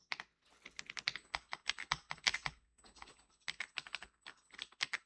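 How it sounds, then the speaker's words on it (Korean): Computer keyboard keys tapped in quick, irregular bursts, including Alt and arrow keys, close and clear with no talking. "이거 Alt 누르고 방향키 위아래로 하면 왔다 갔다 하거든요"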